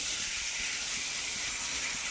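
Hog plum pickle with spices fries in a pan while being stirred, a close, loud, continuous hissing sizzle with no pauses.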